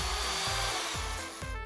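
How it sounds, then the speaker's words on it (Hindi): A power drill whirs in Poppy Playtime Chapter 3, a steady mechanical buzz with grinding, rasping texture running throughout, close and fairly loud with no voices. "बस एक सेकंड, मुझे तुम्हारी ड्रिल चाहिए।"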